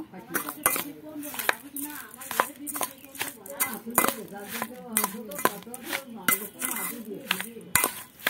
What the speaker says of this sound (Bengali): এবার এটা আমি ভালো করে এর সাথে মাখিয়ে নেব